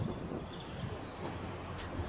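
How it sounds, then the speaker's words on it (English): A moving train heard from someone standing on it, a low rumbling roar mixed with rushing wind buffeting the microphone and no talk. "I'm standing on a train."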